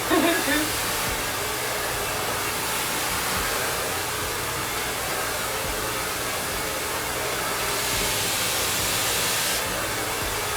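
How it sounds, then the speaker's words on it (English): A hair dryer blows steadily and loudly for a silk press on a client's hair, a constant rushing whoosh from start to finish with no talking. "the goal is to get the hair as smooth as possible with your dryer"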